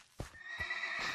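A horse in the video game Minecraft lets out a close, fairly loud whinnying neigh that rises and holds, with a couple of soft hoof-like thumps near the start.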